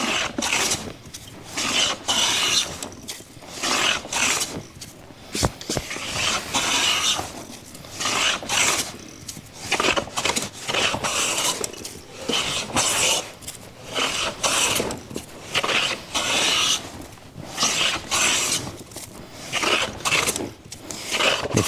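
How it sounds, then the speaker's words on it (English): A hand plane makes repeated overlapping passes across a wide wooden box lid prepared for veneering, producing rhythmic rasping strokes with short pauses between them, close and moderately loud. "If you're not familiar with planing a wide surface, you want to make overlapping passes anywhere from a quarter to a third the width of the blade."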